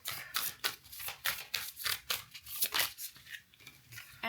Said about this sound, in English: I'm now shuffling the deck.